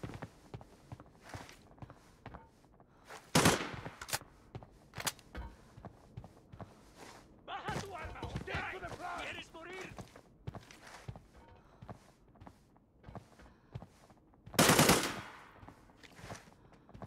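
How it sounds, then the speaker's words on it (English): Gunfire in the shooter game Arena Breakout: scattered single shots and short automatic bursts, two of them loud and close, mixed with footsteps and gear movement at a low overall level. "Exchanging fire with the target!"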